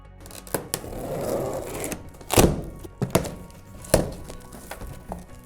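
A Saunier Duval ThemaPlus condensing boiler comes out of its cardboard carton, with close rustling, scraping and several sharp thunks and knocks scattered irregularly.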